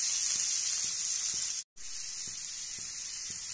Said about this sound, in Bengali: বন্ধুরা দেখতে পাচ্ছেন আমরা কড়াতে তেল দিয়ে কেটে রাখা কুমড়োগুলো একটু ভেজে নিচ্ছি